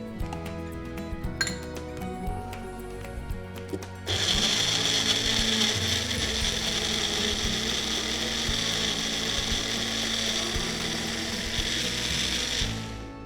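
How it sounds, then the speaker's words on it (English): A blender purees pineapple and grapes into fruit puree for mixed fruit jam, starting with a few clinks, then a loud steady whirring motor drone that runs about nine seconds before winding down. "let's puree rest of the fruits. I'm taking some pineapple, some grapes"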